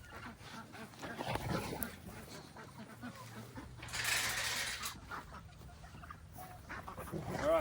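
Chickens in a farmyard cluck and murmur close by while people talk over them, with a burst of rustling noise partway through.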